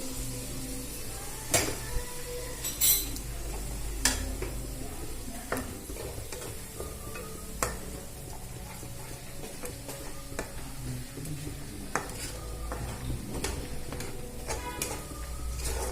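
Yogurt frying in a pan with cashews and a little sugar, a soft sizzle under repeated scraping and clacking strokes of a spoon stirring, close and fairly quiet.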